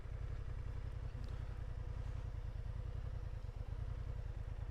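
A Honda Hornet CB750 motorcycle rumbles steadily close by through a full-lock U-turn in an open space, its low engine note pulsing evenly throughout with a faint clatter and no talking.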